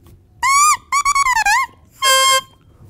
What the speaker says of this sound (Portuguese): O som da palheta, produzido sozinho, é assim.